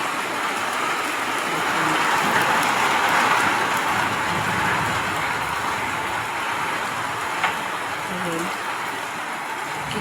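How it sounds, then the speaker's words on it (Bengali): Heavy rain pours down in a dense, continuous hiss that holds steady and close throughout, with no talk over it. "দেখেন গাইস কত কত বৃষ্টি হচ্ছে"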